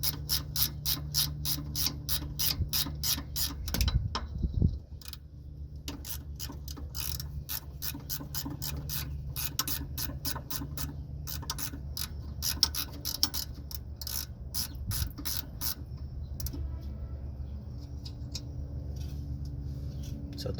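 A ratchet wrench on a 7/16 socket clicks in fast, repeated bursts while loosening the nuts on a Freightliner Cascadia leveling valve, the clicking pausing briefly and then resuming over a low background hum.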